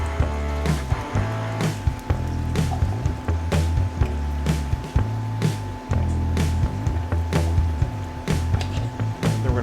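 Pinto beans tumbling into a simmering pot and getting stirred around, giving close, wet, squishy scraping with repeated sharp knocks of a spoon against the pot, steady and busy with no talking.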